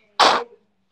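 A short, sharp burst of breath forced through the nose, like a quick nose blow, loud and close, lasting under half a second.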